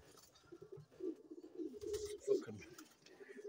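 Roller pigeons in a loft coo softly at close range, with several overlapping low, throaty, repeated calls in a quiet setting.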